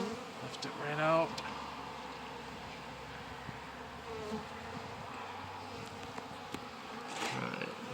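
Honey bees buzz around an open beehive during spring hive maintenance, a faint steady hum with occasional louder passes of single bees near the ear, heard outdoors and alone.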